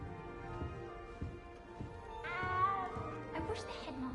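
A frightened cat meows a few times, its rising cry standing out midway over a faint background of rhythmic footsteps and ambience.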